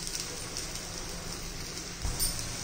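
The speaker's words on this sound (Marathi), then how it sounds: "छान अशी आता उकळी आलेली आहे" A pan of green chilli curry with a cup of water, salt and turmeric comes to a boil, giving a faint, even bubbling simmer with a small burst of bubbles near the end.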